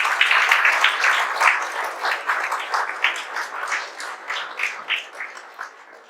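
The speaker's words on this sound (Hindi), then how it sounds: "ताली बजाइए" A hall audience applauds at a results-introduction event for an engineering exam topper, dense clapping loud at first and thinning to a fading patter by the end, with no talk.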